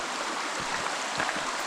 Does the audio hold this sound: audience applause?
no